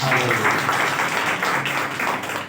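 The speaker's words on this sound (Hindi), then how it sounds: "आइए ताली मारेंगे" A church congregation clapping during a Hindi-language Resurrection Day service, a full, lively burst of many hands with a loosely rhythmic pulse, carrying on steadily with little talk.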